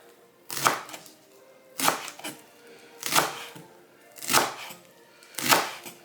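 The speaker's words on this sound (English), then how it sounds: "I'm going to take these and just roll them" A knife slices through rolled-up collard greens on a cutting board, five evenly spaced crisp chopping cuts, each with a short rustling crunch, close and clear with no talking.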